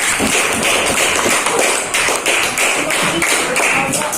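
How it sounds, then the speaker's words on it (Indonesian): Sixth-grade pupils in an Indonesian-language class at a Medan madrasah clap loudly for a group, brisk continuous applause from many hands filling the room at close range. "Tepuk tangan untuk kelompok 5"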